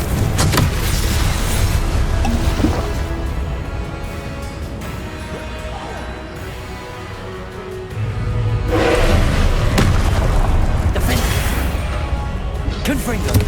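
Confringo blasting spells explode in Hogwarts Legacy: loud, broad booming bursts at the start, midway and near the end, over a dense, steady wash of game noise.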